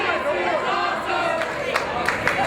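A wrestling crowd at an AWE Culture Shock brawl cheers and shouts loudly and continuously, a dense roar of many voices with sharper yells and bursts rising now and then.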